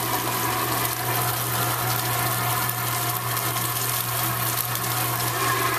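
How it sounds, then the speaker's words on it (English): Filtered water runs from a carbon filter system's tap into a kitchen vessel, a steady, continuous rushing stream with a low hum, close and unbroken. "We'll use a little bit of filtered water."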